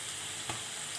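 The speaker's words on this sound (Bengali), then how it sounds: "তেলটা আমার অলরেডি গরম হয়ে গেছে। এখন আমি পেঁয়াজ দিয়ে দিব।" Onion drops into hot oil on the stove and frying starts, with a continuous soft sizzle and a single brief clatter near the middle. The sound is quiet and no one talks.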